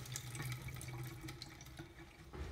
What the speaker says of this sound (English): Soak the plantain slices in water for about 10 to 15 minutes. Drain the plantain slices.